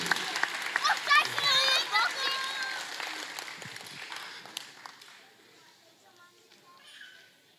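A Baptist church congregation gives a child a round of applause, close busy clapping mixed with children's and adults' voices, tapering off toward the end.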